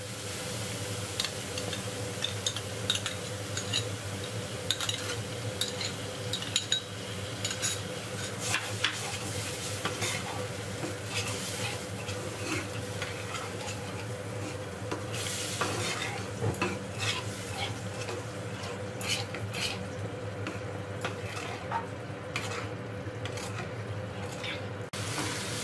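Yogurt stir-fried with spices in a pan for a Bengali-style dahi rui fish curry, a continuous close sizzle with steady scraping and stirring strokes throughout.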